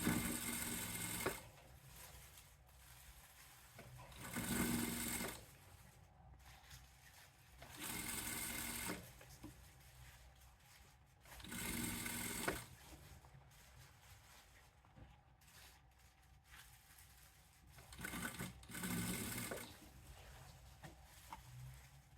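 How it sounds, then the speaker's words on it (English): Sewing machine runs zigzag stitching along a seam on trailrunning gaiters, with faint bursts of steady whirring lasting a second or two, separated by quiet pauses, heard at low level. "And let the machine stretch the seam."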